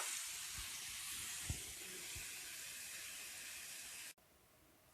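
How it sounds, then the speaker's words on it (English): Lemon chicken and rice simmering under a lid in a covered pot, a steady broadband hiss with faint bubbling ticks that runs continuously and then drops to a quieter hush near the end. "I'm going to put a top on it and let it simmer"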